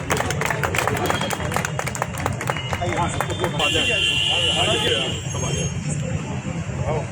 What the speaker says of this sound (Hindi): जोरदार ताली बजाएं प्रशांत चौबे जी के लिए